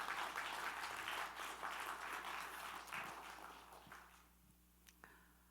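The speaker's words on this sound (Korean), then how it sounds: "박수로 영광을 드립니다." A church congregation at a New Year blessing service applauds together in a dense burst of clapping. The applause then thins and fades away over a few seconds, with a few last claps at the end.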